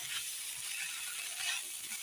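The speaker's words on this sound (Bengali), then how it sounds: "দেখো মশলা সব কিছু আমি একসঙ্গে ভালো করে এখন কষিয়ে নিচ্ছি।" Spices sizzle steadily together in a hot oiled pan as they are sautéed, a close, continuous crackling hiss with no voices over it.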